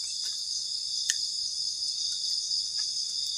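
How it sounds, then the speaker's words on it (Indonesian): Crickets chirp steadily at night around a rainy campsite, a dense continuous high trill with a few sharper chirps standing out, moderately loud and close with no talking. "Nah, ketika malam suara jangkrik itu kenceng banget."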